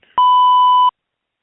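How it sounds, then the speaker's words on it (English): A single steady electronic countdown beep, loud and clean, lasting under a second before silence, marking the start of synchronized playback. "I'm going to do a 3, 2, 1 beep, and when the beep's done, hit play, everyone."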